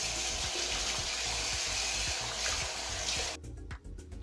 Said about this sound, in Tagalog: Ngayon i-rinse na lang natin ng tubig kung hindi na talaga siya magbabara.